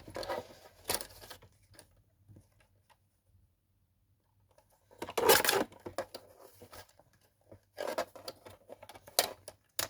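Scissors snip through a paper card sentiment in short, crisp cutting bursts separated by near-silent pauses, close and fairly quiet, with a louder burst of snips in the middle.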